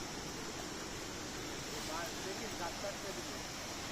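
The Changey Waterfall at Kolakham, Kalimpong sends up a steady broadband roar of rushing water from some distance, faint and unbroken, with a voice talking over it.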